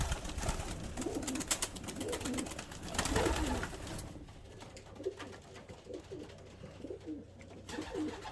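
Pigeons on perches in a loft coo repeatedly in soft, low, throaty phrases, several birds overlapping at close range, with bright flutter and rustling noise in the first half.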